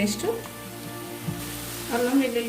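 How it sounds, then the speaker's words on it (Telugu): Ginger garlic paste fries in a pan for a palav gravy, giving a steady sizzle under the cooking sounds, with a person talking over it at times. "ఒక 1 మినిట్ అల్లం వెల్లుల్లి పేస్ట్ని వేయించండి."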